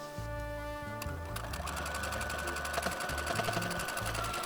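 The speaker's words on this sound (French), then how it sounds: "je vais aller coudre à la machine à 1 cm du bord" A sewing machine runs steadily, stitching fabric 1 cm from the edge for a double draught-excluder door cushion, its rapid mechanical needle rhythm close and continuous throughout.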